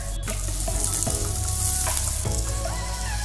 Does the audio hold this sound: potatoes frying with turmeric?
yes